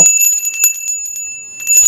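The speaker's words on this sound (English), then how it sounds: "Then we have this little one, which is a Sarna bell." A small brass Sarna bell rings with a bright, sustained, steady tone, close and loud, its clapper rattling lightly throughout.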